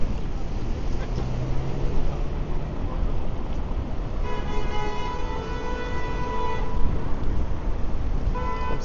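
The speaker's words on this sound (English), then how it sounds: "I'm surprised there's not more honking." A long car horn blares from city street traffic on College Street in downtown Toronto on a windy afternoon, sounding over a constant roar of wind and traffic noise, with a brief shorter toot near the end.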